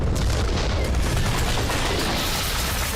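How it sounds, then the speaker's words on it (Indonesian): Backpack bomb exploding at night inside Paddy's Pub in Bali, a single loud blast that rolls on as a dense, sustained roar for several seconds with no voices. "Sebuah ledakan keras mengguncang Paddy's Pub."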